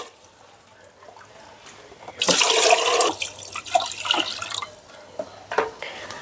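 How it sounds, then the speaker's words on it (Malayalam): Stored water is poured into a washed fish bowl for ornamental fish, giving a loud splashing gush for about a second, followed by lighter trickles and drips under a faint low hum. "ഇനിയിപ്പോൾ ഞാൻ ഈ കഴുകി വെച്ചേക്കുന്ന ബൗളിലേക്ക് നമ്മൾ ഇന്നലെ പിടിച്ചു വെച്ച വെള്ളം ഒഴിച്ചു കൊടുക്കുവാണേ"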